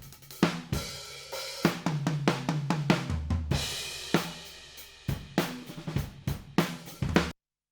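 Overhead microphone tracks of a drum kit playing a rock groove, bright cymbals over kick and snare hits in a steady rhythm, fairly quiet and clean, ending abruptly in silence.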